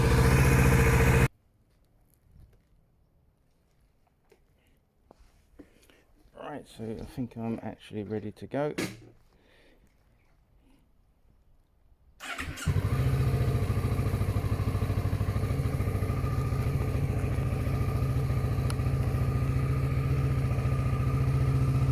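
A Kawasaki motorcycle engine, newly revived after not running, idles steadily and loudly for the last ten seconds, after a quiet stretch with clattering handling noises and a short remark from a man.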